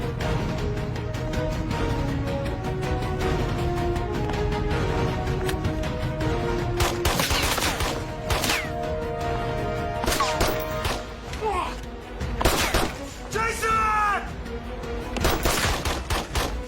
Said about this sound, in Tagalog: Saan galing yung putok?